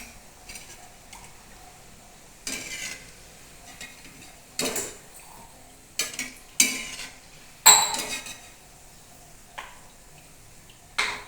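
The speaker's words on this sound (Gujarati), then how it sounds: "હવે આપણે આ ઉતારી લેશું બરાબર તેલ નીતાર લેશું આવે તો જો જારો સાઈડમાં કરી અને તેલ કાઢી લેશું" Slotted spoon scraping and clinking against an iron kadai while lifting fried bhajiyas out of hot oil, several sharp metallic knocks spaced a second or so apart over a low background hiss.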